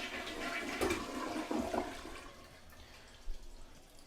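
A household toilet flushing right after its tank fill adjustment, a loud close rush of water that swirls and gurgles for a few seconds before easing into a quieter refill hiss, with no talking.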